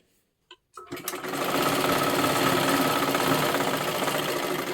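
A sewing machine stitches tucks in silky fabric, starting after a couple of clicks and then running in one loud, steady, continuous whir close by.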